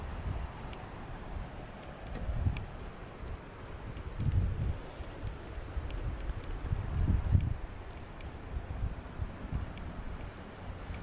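Steady outdoor wind gusting against the microphone at night, a constant rumbling low buffet that swells and eases in several gusts, with faint rustling and occasional tiny ticks beneath it.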